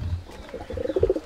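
Pigeons of an old bloodline cooing in a loft, a low murmuring coo that builds into several louder, rhythmic pulses toward the end, close by with a faint rumble underneath.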